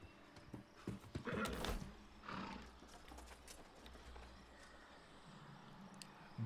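A horse mount neighs and snorts amid clopping hooves in the video game New World, fairly quiet, with a louder whinny burst early on followed by softer movement and shuffling.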